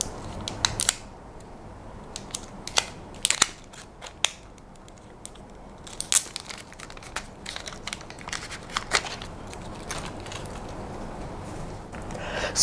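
Protective film is peeled off a Nubia Alpha wearable smartwatch phone, heard as close, sharp crinkles and plasticky clicks scattered irregularly over a quiet background.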